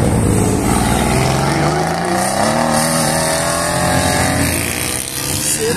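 Car with wheels sticking out wide accelerating hard, a loud, close engine revving and climbing in pitch through gears, continuous and roaring throughout.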